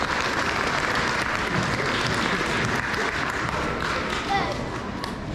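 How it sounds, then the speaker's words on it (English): A band concert audience claps in a full, continuous round of applause, loud and steady across the whole stretch with faint voices mixed underneath. "you should give them a round of applause"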